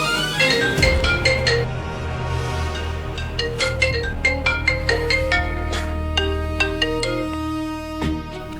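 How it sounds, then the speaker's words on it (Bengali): A mobile phone ringtone plays a bright, repeating electronic melody in a Bangla TV drama scene, with the notes ringing out clearly and steadily for several seconds over a soft background. "এটা কার ফোন?"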